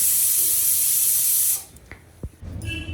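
A pressure cooker vents steam in a home kitchen while cooking tomato bath: a loud, steady, high hiss lasts about a second and a half, then cuts off abruptly, leaving faint clinks and quieter kitchen noise.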